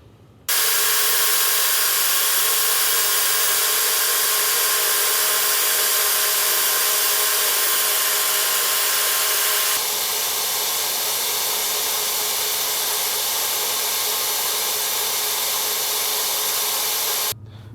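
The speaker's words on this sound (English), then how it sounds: "I'll cut it in the bandsaw" A bandsaw cutting through a steel hitch receiver, a loud steady whining drone that shifts tone partway through the cut and runs unbroken without talk.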